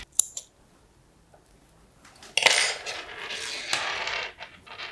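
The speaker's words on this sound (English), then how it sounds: "we're going to go ahead and cut the yarn and reattach it to the other side of the work" Scissors snip through knitting yarn while a boatneck sweater's armhole edgings are finished, giving a few short, crisp cuts spread across the moment with quiet gaps between them.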